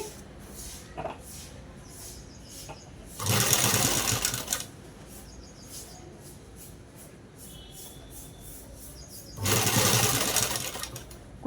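A sewing machine stitches a blouse in two loud, steady whirring runs of roughly a second each, separated by a quieter stretch of faint handling sounds.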